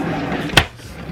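A drawer in a home closet slides with one short thump, set against a quiet room.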